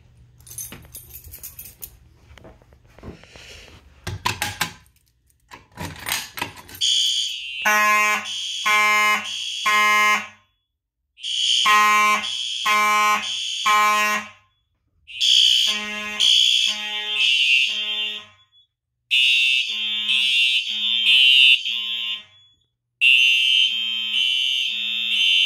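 A fire alarm system test sounds loudly up close: after some rattling handling noise, a horn blares in repeated rhythmic bursts of pulsing tones, with short gaps between groups.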